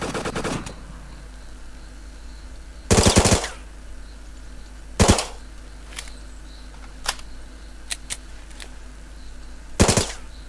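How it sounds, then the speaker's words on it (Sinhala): Gunfire in the co-op close-quarters shooter Project Breach 2: loud bursts of automatic fire around 3 and 10 seconds and a sharp volley near 5 seconds, with scattered single shots between, over a steady game ambience and no talk. "අම්මෝ වෙඩි"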